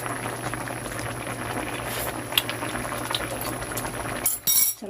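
A pot of food boils steadily at home cooking, a close continuous bubbling and gurgling with a brief clink of a utensil near the end, no talk.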